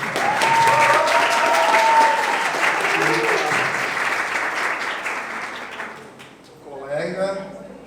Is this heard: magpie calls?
no